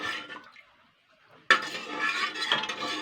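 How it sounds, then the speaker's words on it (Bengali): A spoon or spatula stirs soy sauce into a pan for a chickpea curry: a soft scrape, a near-silent pause, then loud, close scraping and clinking against the pan that continues steadily. "হালকা একটু নেড়ে চেড়ে দেবো।"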